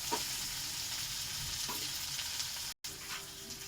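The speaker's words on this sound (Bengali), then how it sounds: "পেঁয়াজ আলু ভাজা হয়েছে" Onions and potatoes sizzle steadily in oil in a pan, a continuous close frying hiss broken by a few soft stirring scrapes and one very short dropout, with no voices.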